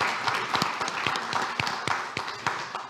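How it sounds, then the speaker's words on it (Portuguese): Studio audience clapping for guests on a Portuguese talk show, a short burst of scattered, fairly quiet handclaps with distinct individual claps throughout. "Palmas para eles também, não é verdade?"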